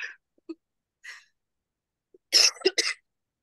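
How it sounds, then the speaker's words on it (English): A few short, soft throat sounds from a person getting over a cold, followed by a sharp double cough near the end, close and fairly loud in an otherwise quiet room. "So excuse my voice and my coughing."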